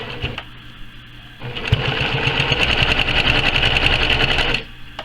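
A sewing machine stitches quilt pieces for a Delectable Mountains quilt block, starting with a brief burst, pausing, then running steadily for about three seconds in a close, loud, continuous whir before stopping.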